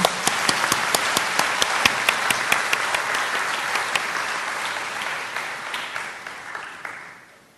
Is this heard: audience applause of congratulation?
yes